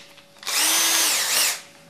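A Festool CXS cordless drill spins up in one steady, loud whine lasting about a second, dipping slightly in pitch before winding down, close to the listener with no talk over it.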